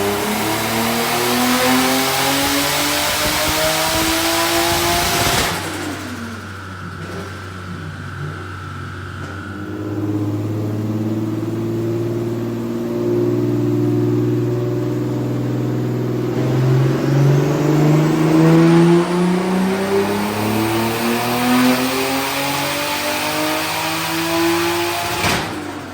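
Turbocharged BMW E46 with a swapped M52B28 straight-six running on a dyno, loud engine revving and holding steady, dropping briefly then climbing again through rising pulls, with no talk.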